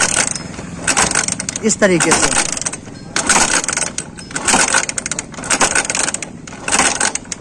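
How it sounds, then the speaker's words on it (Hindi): Repeated kick-start strokes on a Bajaj Platina motorcycle that won't start, a mechanical clatter of the kick lever and engine turning over in bursts, close and loud, with someone speaking briefly. "सबसे पहले चाबी स्विच ऑन करूँगा और यहाँ पे किक को लगाएंगे।"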